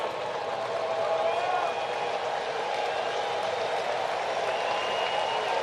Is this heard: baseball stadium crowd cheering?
yes